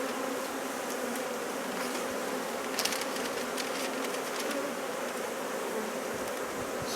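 Honey bees buzz steadily in a dense, continuous drone during beekeeping work uniting a queenright colony with a queenless one using newspaper, with a few brief rustles and clicks near the middle.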